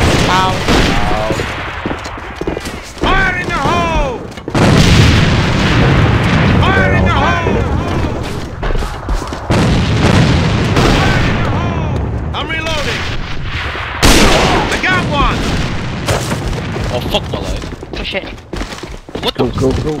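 Grenade blasts and gunfire from the online shooter game AVA, bursts of shots and booming explosions running through the whole stretch, loud and dense, with players talking over the top.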